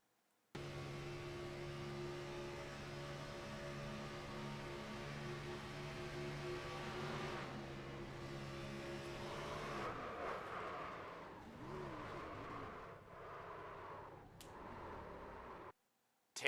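Onboard race car engine in the iRacing sim at a superspeedway, a steady sustained drone for most of the run, then rising and falling revs near the end before cutting off.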